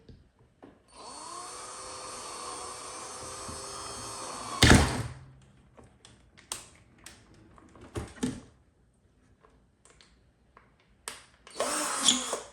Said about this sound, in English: I'm just gonna drill a hole right here at the top